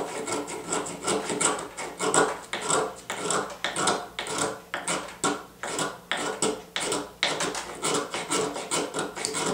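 A ferro rod striker scrapes along a piece of fatwood in a steady run of close, harsh rasping strokes, roughly two per second, with no talking.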